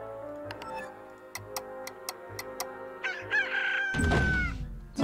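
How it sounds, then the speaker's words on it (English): A rooster in the Slime Rancher video game crows loudly near the end, after steady clock-like ticks and a soft musical background. "Sounds like the Zelda rooster sound."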